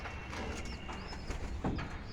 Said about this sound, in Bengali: এখানে আসলে খুব বেশি কবুতর নাই হয়তো আট জোড়া কবুতরের মতো আছে